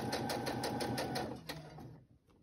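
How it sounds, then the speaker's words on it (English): A home sewing machine running at a desk while stitching a book-image pocket, giving a steady close whirring rattle with rapid needle ticks that slows and stops about two seconds in. "I just moved my sewing machine over to my desk"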